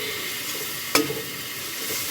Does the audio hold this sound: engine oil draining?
no